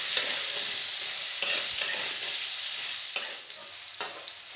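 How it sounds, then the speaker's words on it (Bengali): Potatoes fry with salt and turmeric in hot oil, giving a steady bright sizzle broken by a few sharp scraping stirs, close and alone. "স্বাদ মতো নুন, হলুদ গুঁড়ো দিয়ে খুব ভালোভাবে আলুগুলো ভেজে নেব"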